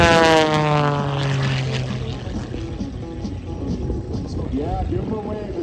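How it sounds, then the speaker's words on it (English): P-51 Mustang fighters with Merlin engines taxiing at the Quad City airshow, a loud, deep propeller drone with shifting harmonic tones as the planes roll past, with an announcer speaking over the engines. "give them a wave as they taxi out those beautiful Mustangs, those Merlin engines"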